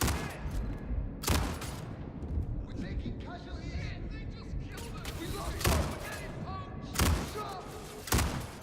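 Rapid bursts of laser-beam SMG gunfire in a shooter video game, several sharp loud volleys spaced through the clip over a busy background, with someone talking between shots.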